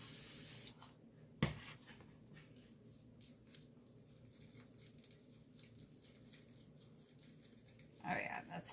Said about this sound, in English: this is not our Fine Mist sprayer, it's just one that I had